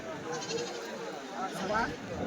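Male goats bleating at a busy weekly sheep and goat market in Kadiri, a few nasal bleats rising over steady crowd chatter and nearby voices talking throughout.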